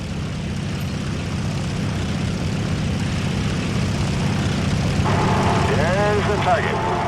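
A propeller warplane engine from the 1941 pre-war training mission of the Birds of Steel video game drones on steadily as a low, even hum, with a brief warbling tone near the end.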